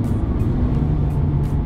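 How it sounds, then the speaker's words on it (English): A 2019 Mazda MX5 engine hums steadily on the road while driving, a loud, close, continuous drone with light wind noise. "just listen to the tone of the engine"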